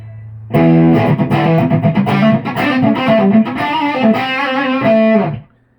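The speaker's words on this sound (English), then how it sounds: "if you want just a little bit of distortion, you hit the boost" An Aria U-100 Urchin electric guitar played with a distorted, boosted tone, loud and sustained chords ringing for several seconds before cutting off.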